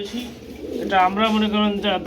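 Pigeons cooing close by, a soft low throaty coo followed by several warbling calls in quick succession.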